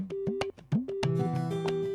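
A telephone busy tone sounds as short repeated pulses of a low steady beep, interleaved with other brief tonal blips, fairly loud and close over about two seconds.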